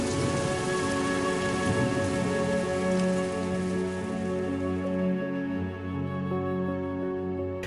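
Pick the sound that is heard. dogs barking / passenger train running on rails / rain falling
rain falling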